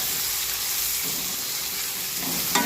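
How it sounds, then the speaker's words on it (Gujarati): Vegetables with chili sizzle and hiss in a hot pan for Maggi rice, a steady frying crackle with a brief stir near the end. "હવે આને બધાને 5 મિનિટ આપણે સાતળવા દેવું"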